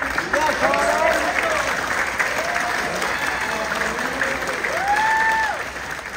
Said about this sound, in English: In the back there for a round of applause, we have Connor Natalie